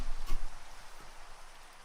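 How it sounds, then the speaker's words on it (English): Rain falling in Minecraft, a steady soft hiss of raindrops throughout with a couple of faint thumps, no voices. "And it's raining."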